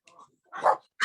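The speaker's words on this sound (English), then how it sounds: "The dogs are barking because there's somebody at the door." Small dogs, mostly chihuahuas, bark at someone at the door: a faint short yip, then one loud close sharp bark, with another starting at the very end.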